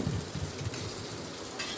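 Tomatoes, onions and chillies fry in oil in a pan and get stirred, giving a steady soft sizzle with faint scraping stir strokes throughout.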